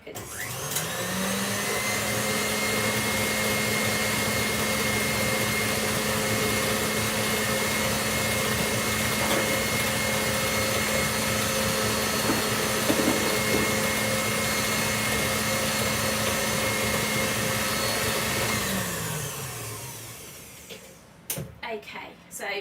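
An electric mixer beats butter and sugar in a bowl, a loud, steady motor whir running for about twenty seconds before cutting off, with a voice talking over it.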